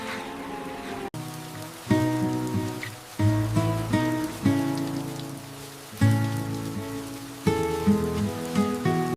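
Steady rain pours down continuously at a moderate level, with tonal, music-like layers running through it and brief sharper drops standing out.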